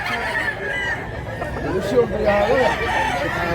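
A rooster crows partway through, its call rising over outdoor chatter as people talk nearby.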